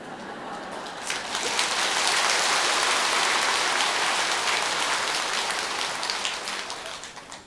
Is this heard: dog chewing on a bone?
no